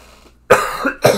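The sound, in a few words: coughing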